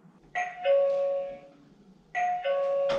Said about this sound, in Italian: qualcuno sta suonando il campanello